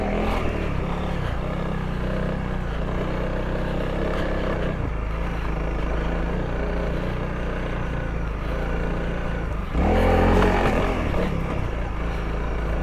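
A Honda CRF300L dual-sport motorcycle rides over trail rocks, its engine a continuous close rumble that holds steady before briefly surging louder near the end, with faint voices mixed in.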